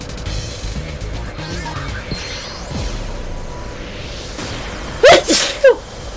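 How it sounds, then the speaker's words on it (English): A single person sneezes sharply, loud and close, in two quick bursts near the end after a stretch of quiet background game sound. "Oh, I sneezed."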